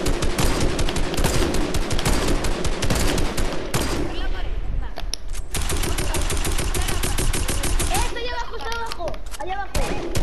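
Airsoft guns fire in rapid bursts and sustained volleys during a skirmish, loud and close, with shouting voices mixed in.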